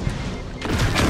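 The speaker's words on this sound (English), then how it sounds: "This is a very high rate of fire weapon" A high rate of fire weapon in the shooter game Destiny firing a rapid burst, a dense, loud rattle of overlapping shots that swells toward the end of a short moment.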